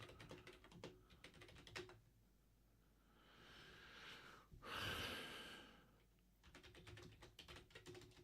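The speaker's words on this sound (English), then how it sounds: "I keep typing stuff wrong." Computer keyboard typing in quick bursts of close, clicky keystrokes at the start and end, with a quiet gap and a breathy exhale in the middle, while someone enters messages for an online puzzle game.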